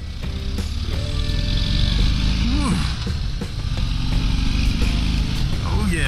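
A 2021 Harley-Davidson Fat Bob rumbles steadily underway, its deep engine drone loud and continuous with wind noise, while the rider briefly exhales and speaks over it.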